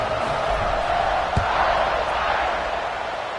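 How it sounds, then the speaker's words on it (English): Fans at a Notre Dame versus Penn State college football game fill the stadium with a loud, continuous roar and buzz before a kickoff, with a brief thump partway through. "this crowd is buzzing after that last score"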